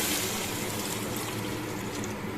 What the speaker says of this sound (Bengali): এবার আমি এর মধ্যে পরিমাণ মতো জল অ্যাড করছি